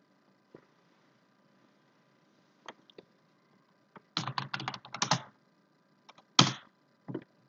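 Typing on a computer keyboard during a live English vocabulary lesson: a few scattered single keystrokes, then a dense burst of rapid clicking and a last short flurry, fairly close, with no talking.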